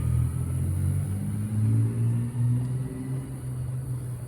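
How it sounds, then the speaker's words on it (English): Beat-up old Toyota truck engine revving with a whining, supercharger-like tone, a steady low rumble that rises and falls slightly throughout. "Although it really sounds like a supercharger,"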